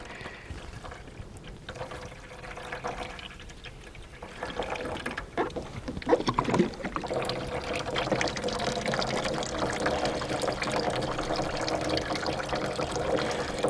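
A gallon of liquid poured into a beehive feeder, starting as quiet handling and building into a continuous trickling, gurgling pour that grows louder and steadier toward the end.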